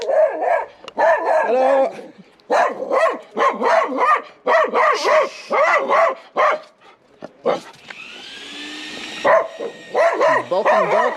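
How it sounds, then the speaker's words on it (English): Stray Balkan dogs in a street in Veliko Tarnovo, Bulgaria, bark loudly and repeatedly in rapid overlapping bursts, with yips and whimpers mixed in, and one brief spoken greeting. "These Balkan dogs are so crazy."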